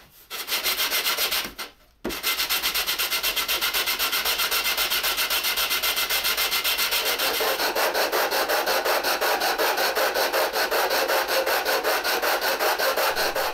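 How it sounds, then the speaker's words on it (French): Teak boxes rubbed back and forth on an abrasive sheet clamped to a board, a loud, steady rasping scrape with rapid regular strokes, briefly pausing near the start and then continuing alone. "je vais prendre directement mes boîtes pour venir ici les frotter comme ça sur la planche"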